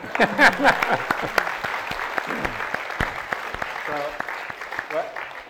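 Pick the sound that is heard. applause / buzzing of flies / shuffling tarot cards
applause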